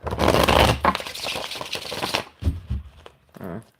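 A deck of tarot cards shuffled close up, a dense papery riffle followed by a few shorter, softer taps and flicks.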